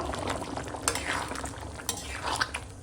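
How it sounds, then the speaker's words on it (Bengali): Garam masala powder is stirred into a cooked mutton and potato curry, giving close, uneven scraping and clinking of a spoon in the pot over a soft bubbling sizzle, with no voices. "এখন দিয়ে দেবো ওপর থেকে গরম মশলার গুঁড়ি দিয়ে সুন্দর করে মিশিয়ে নেবো"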